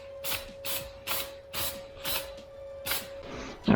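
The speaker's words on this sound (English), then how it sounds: "give these a good spray with some brake cleaner" Brake cleaner is sprayed onto rear brake parts in a quick series of seven short, sharp hissing bursts, close and fairly quiet, with no speech.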